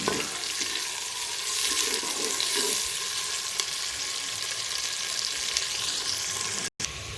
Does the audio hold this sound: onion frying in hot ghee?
yes